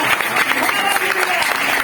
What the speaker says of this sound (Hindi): तालियां बजाओ राजा के लिए